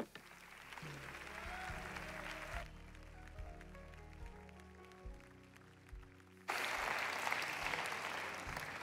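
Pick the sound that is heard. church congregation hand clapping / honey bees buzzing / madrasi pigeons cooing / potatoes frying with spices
church congregation hand clapping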